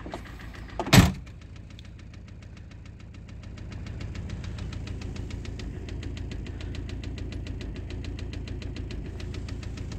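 A car that sat unused for a year cranks with a sharp burst, then its engine catches late and settles into a steady, rhythmic idle with a faint ticking knock, close and alone.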